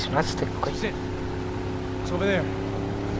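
A boat engine in Max Payne 3 gameplay drones steadily and loudly from start to finish, while a voice speaks briefly over the start and again near the end.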